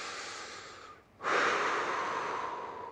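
Steady breathing from someone lying on their back with legs lifted during a core stability exercise, a band under the small of the back; a soft airy exhale, a brief pause, then a louder sustained breath out, close and alone.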